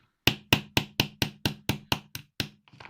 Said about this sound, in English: we take the hammer